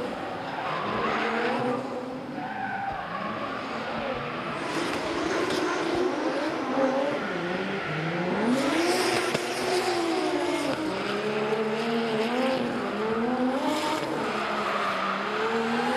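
A drift car slides through the final turn at Baypark Stadium during D1NZ Pro-Championship Drift Series qualifying, its engine wailing and revving up and down over continuous tire squeal, loud and sustained.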